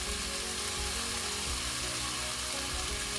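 Kerala-style sweet potato curry frying in a pan while being stirred, a constant close hiss and sizzle with faint scraping movements underneath and no voices.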